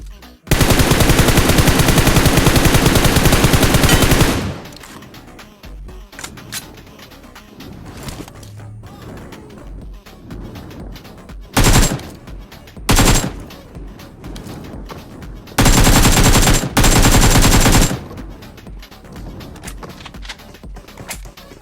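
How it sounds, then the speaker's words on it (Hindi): Long bursts of automatic gunfire in the video game BGMI (PUBG Mobile), loud and sustained, then scattered shots and a few more short volleys with quieter stretches between. "अब इनको बुलाने के लिए मैं यहाँ पे गोली चलाता हूँ"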